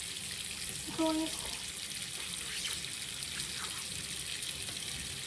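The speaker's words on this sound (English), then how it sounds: "Okay, we're gonna turn off the water." Steady broadband rush of water running from a tap, continuous throughout with a brief clink near the start.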